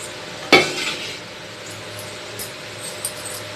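Oil left over from frying chicken heats in a wide kadai for street-style chicken fried rice. A sharp metal clang opens it, followed by a faint, steady sizzling hiss with a light tap later.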